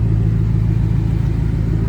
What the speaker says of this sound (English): Got the tractor warming up.